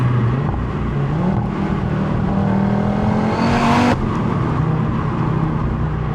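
Audi RS3 hatchback launching hard, its five-cylinder engine roaring loud and close as revs climb steadily, then a sharp gear change and the pull continuing.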